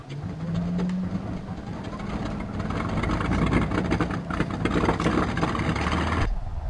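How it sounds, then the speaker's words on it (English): Piston engines of a B-25 medium bomber in the flight sim Aces High 2 cranking and catching on a runway, a low hum rising into a steady rough droning roar that cuts off abruptly near the end. "Let's start up the engines."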